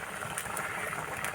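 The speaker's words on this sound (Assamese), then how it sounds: "এয়া মাংস পৰা উতলি আছে" Meat bubbles away in a pot at an outdoor picnic cookout, a soft, steady boiling burble that stays fairly faint throughout and has no voices over it.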